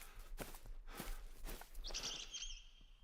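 Small birds chirp and tweet a little distance away, a bright trilling call rising near the end, with soft footsteps crunching through quiet outdoor ambience.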